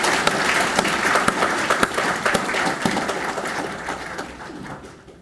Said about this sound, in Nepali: यो पुण्य कर्मको निम्ति म उहाँलाई तालीको अपेक्षा गर्छु.